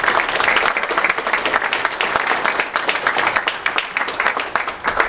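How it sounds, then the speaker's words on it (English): A high school football signing day crowd claps for a student, a lively, close burst of applause with distinct hand claps that pulses along and starts to thin near the end. "Clap it up, that's really good."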